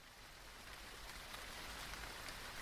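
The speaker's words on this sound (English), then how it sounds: "That's the rain on now." Steady rain falling as a constant, dense hiss with faint pattering, unbroken throughout and heard alone with no voices.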